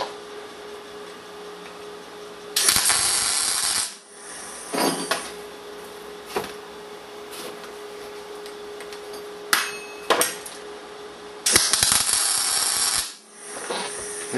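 Short bursts of crackling buzz from an R-Tech Pro-MIG250 MIG welder tacking heavy-walled steel pipe onto thick plate, several brief tacks of one to two seconds separated by quieter gaps with clicks and handling noises.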